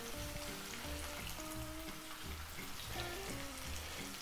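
Pieces of pork and onion fry in a pan with a steady, dense sizzle and crackle, close and continuous, with faint tonal noises underneath.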